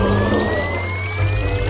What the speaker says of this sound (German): Gießen wir es in die Gesichtsmaskenmaschine und fügen eine Minztablette hinzu.